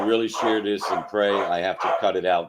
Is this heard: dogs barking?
yes